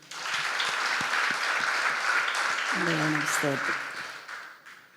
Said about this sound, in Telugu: ఉంటే అందరు ఒకసారి చప్పట్లు కొట్టాను.